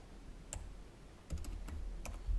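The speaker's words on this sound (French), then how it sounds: "Je tape quelque chose au pif comme ça." Quiet typing on a computer keyboard while filling in a form, with a few scattered sharp key clicks and a short cluster of taps over faint room noise.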